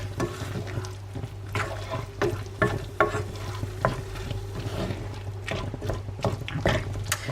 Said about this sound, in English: just going to give that a quick mix